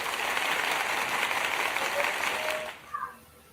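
A crowd applauds and cheers steadily for a performer called King Naga at a rap battle, then the clapping drops away abruptly near the end with a short vocal sound as it fades.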